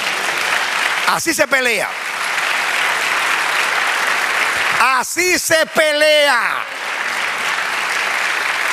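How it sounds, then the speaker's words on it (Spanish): Church congregation applauding steadily and loudly throughout, with a preacher's raised voice speaking over the clapping in two short bursts. "Dale un aplauso al Señor."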